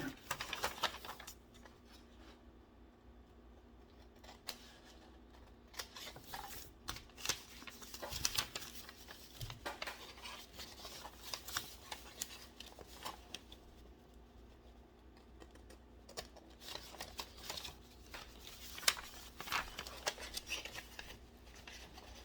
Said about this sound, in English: let's cut this thing out